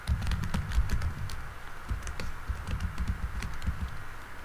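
Typing on a computer keyboard while entering an SQL ALTER TABLE command, rapid continuous key clatter close by with no talk.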